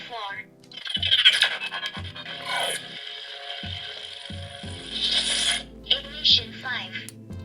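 A Neopixel lightsaber from a Duel of the Fates saber pack ignites with a brash, crackling electronic surge that swells and flickers, then settles into a sustained buzzing hum with a few sharp bursts.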